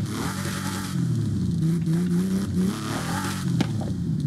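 A Porsche 911 engine in Forza Horizon 5 runs with a steady mid-pitched drone that rises and dips slightly as it revs, close and fairly loud, with a brief sharp knock partway through and no talking.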